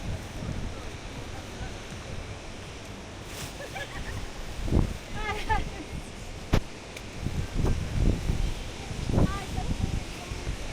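Gusting wind buffets the microphone on a mountain hiking trail in Peru, rumbling in uneven surges with swells near the middle and end, while voices speak faintly in between.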